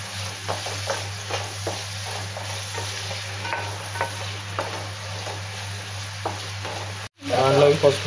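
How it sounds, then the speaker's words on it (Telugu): Ginger garlic paste fries in a pan for a spicy egg curry, a soft continuous sizzle with light stirring taps, then a sudden louder burst of sizzling near the end. "దాంట్లోకి అల్లం వెల్లుల్లి పేస్ట్"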